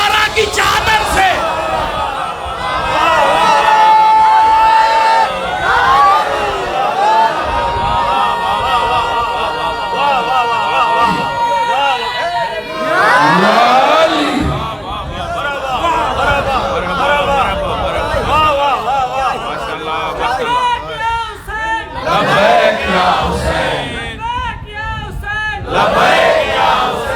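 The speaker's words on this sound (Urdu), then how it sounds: "نعرے لگتے ہیں" A large crowd at a majlis chants religious slogans in loud, rhythmic unison, massed voices filling the space almost continuously and swelling into repeated shouts.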